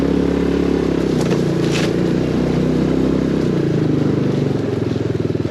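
A HammerHead 250cc go-kart engine drives around a small backyard dirt track, a loud, steady motor drone close by with a rough, buzzing tone that fluctuates slightly toward the end.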